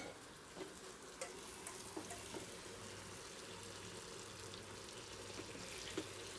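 Ginger-garlic paste frying over a low flame in a home kitchen pan gives a soft, steady sizzle broken by a few faint clicks and stirring taps, with no talk.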